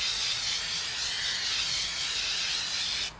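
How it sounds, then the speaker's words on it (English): An aerosol spray can coats a valve cover with paint in one continuous, close, even hiss that holds steady for about three seconds and then cuts off abruptly, no voices. "let's spray it again."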